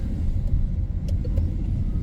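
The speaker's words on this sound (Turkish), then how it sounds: "Tatlı bir gaz verelim." A car engine rumbles low and steady, rising gently under throttle during a driving lesson practising side-street turns, with no voices.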